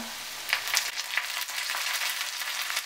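Chopped ginger, garlic and curry leaves sizzle in hot oil for Kerala-style mango pickle, a close, steady crackle with sharper pops scattered through it.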